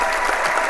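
Short burst of applause and cheering from a crowd, dense clapping filling the brief moment with no speech over it.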